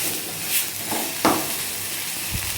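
Banana peel paste being stirred in a pan gives off a steady low sizzle, with a few soft scrapes and one sharper clink near the middle, heard close with no talking.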